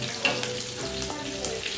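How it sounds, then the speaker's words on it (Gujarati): Capsicum fries in hot oil with a steady, close sizzle, broken by the occasional scrape of stirring in the pan. "બહુ જ વધારે કેપ્સિકમને પણ નથી તળવાના, થોડા આવતા જતા જ તળી લેવાના છે"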